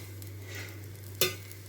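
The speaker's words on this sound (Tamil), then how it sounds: "தோசையை நல்லா பரவலாக ஸ்ப்ரெட் பண்ணிவிட்டு எண்ணெயை மேலாக்கா நல்லா ஊற்றிக்கலாம்." Adai dosa cooking in oil on a pan, a faint, steady low sizzle with one brief sharp clink near the end, quiet and close with no voices.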